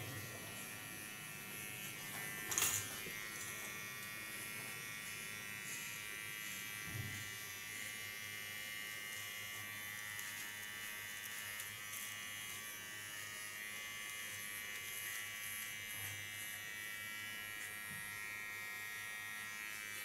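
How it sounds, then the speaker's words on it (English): A small electric hair clipper buzzes steadily while cleaning the contour line around the ear on a short platinum blonde pixie cut, a continuous close motor whine lasting the whole stretch with slight variations in tone. "With my small clipper, also clean the contour line."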